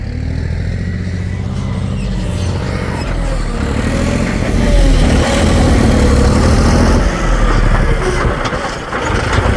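A loud tractor engine rumbles nearby on a farm, idling then revving up somewhat, with a steady low throb throughout and no talking.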